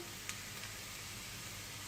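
Finely chopped onion fries in a pan while being cooked until pink, giving a steady, even sizzle at low volume with one faint tap near the start.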